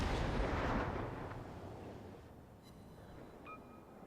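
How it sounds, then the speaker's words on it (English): Naval cannon fire from cruisers in a warship video game: a heavy, booming blast rolling off into a long fading rumble, followed by a quieter stretch with faint game tones. "And now the Omaha's taking shots at me pretty quickly."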